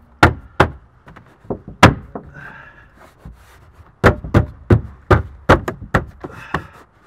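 A series of sharp, hard knocks of an LED third brake light against the rear glass of an 8th-generation Honda Civic, a few scattered at first and then a quicker run of several close, loud taps.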